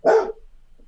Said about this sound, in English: That was my dog, yeah.